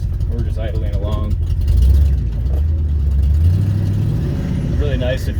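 A 1971 Ford F250 highboy idles along in granny low gear, its low engine drone steady and close with a slight swell partway through, under talk.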